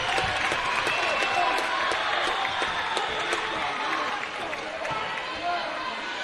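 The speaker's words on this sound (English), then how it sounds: "And the crowd on their feet here in the Davis Fieldhouse." A crowd cheers and applauds at a women's volleyball national championship match in a fieldhouse, a loud sustained roar with claps, while a commentator talks over it.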